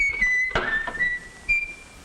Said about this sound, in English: Whistling, that's Dad's cry for help.